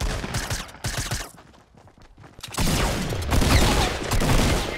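Bursts of rapid automatic gunfire in the Fortnite video game, loud and close, stop briefly for a quieter gap, then resume as a sustained, dense volley.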